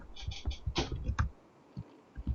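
Typing on a computer keyboard to send a chat message: a quick run of light, close clicks and taps, then a pause and a few more keystrokes, with faint background noise.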